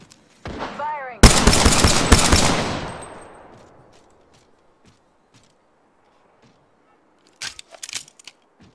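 Rapid burst of video game gunfire, a sharp opening shot followed by a dense, loud volley of close shots that decays into a fading tail, with a couple of faint, isolated pops near the end.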